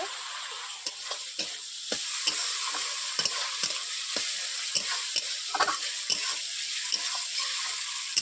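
Chopped tomatoes frying with onions in a pan for a mixed vegetable curry, a steady hiss of sizzling oil broken by repeated sharp scrapes of a spatula stirring, close and alone.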